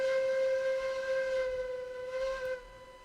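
A steam locomotive whistle in the railroad game RailRoads Online sounds as a steady, chord-like tone held for about two and a half seconds, then cuts off, leaving a low background rumble.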